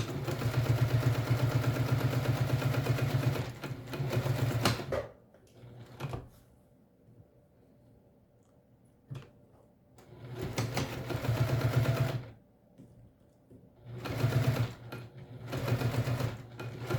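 A sewing machine top-stitches a mini backpack in several loud, steady bursts of rapid stitching, each lasting a few seconds and separated by quiet pauses with faint handling noises.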